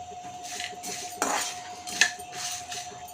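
Garam masala spices dry-roast in a pan while a metal spoon stirs them, making a few close, sharp clinks and scrapes against the pan over a quiet background with no talk.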